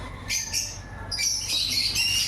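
Caged birds squawk in a series of sharp, close calls with brief chirps between them, over a faint background hum.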